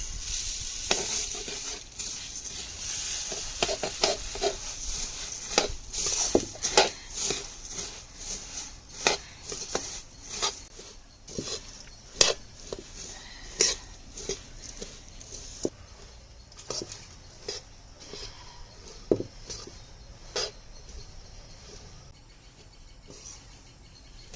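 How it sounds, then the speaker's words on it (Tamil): Puffed rice is stirred into hot jaggery syrup for pori urundai, giving a crackling sizzle with repeated scraping and stirring strokes in an uneven rhythm. The sound is fairly close and carries no voices. "பாகு அந்த பதத்துக்கு வந்தோடனே பொரியை போட்டு கிண்டிடலாம்."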